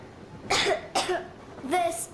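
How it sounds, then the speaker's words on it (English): A child character in the video game Metro Exodus coughs three times with short pauses between, each cough breaking into a voiced, slightly whiny tone. "I have this cough."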